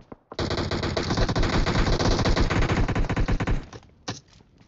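Automatic machine gun fire in PUBG Mobile: a loud, rapid, sustained burst of shots lasting several seconds, then a brief second burst after a short pause, with no voices.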